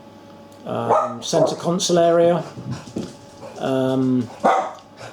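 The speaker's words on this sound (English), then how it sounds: "Sorry about the dogs in the background." Dogs bark loudly in repeated bursts close by, with a strong, harmonic, howling quality. Someone talks over part of the barking.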